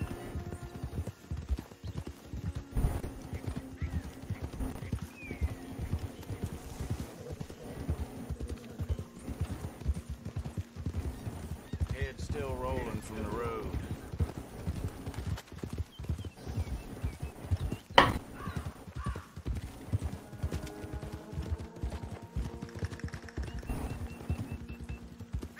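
Horse hooves clip-clop steadily at a gallop in the online mode of Red Dead Redemption 2, with an occasional neigh, all under a continuous game soundscape and some quiet talking.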